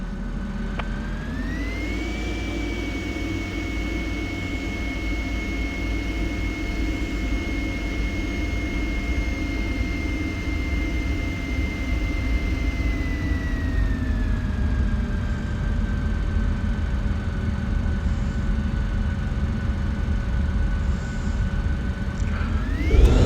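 An F-16 fighter jet runs its engine at full power and rolls down the runway for takeoff, a loud continuous roar with a steady high whine that rises then settles, heard from inside the cockpit with no talk.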